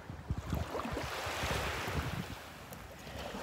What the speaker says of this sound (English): The water sounds so relaxing too.